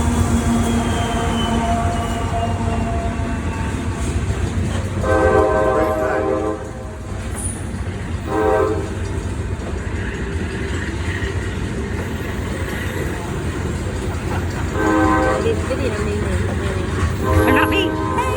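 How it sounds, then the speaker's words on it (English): A train rolls past close by with a steady loud rumble and rattle of cars, its horn sounding several times in long harmonic blasts over the noise. "let the train get through so you can hear it"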